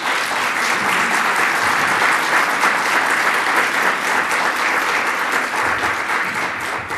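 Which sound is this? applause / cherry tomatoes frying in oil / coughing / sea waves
applause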